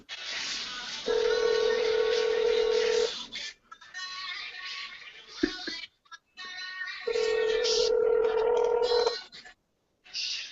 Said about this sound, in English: And you hear his phone ringing, right?